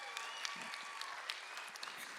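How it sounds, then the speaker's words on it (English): Applause for sponsors at the Ignite High Desert 2025 event in Hesperia, a steady crowd clapping throughout with scattered sharper claps and faint voices mixed in. "Nice big round of applause, all of our sponsors."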